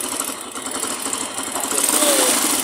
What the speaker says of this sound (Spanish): Esta motico de por sí ya siempre coge un sonidito bastante fuertecito en el motor.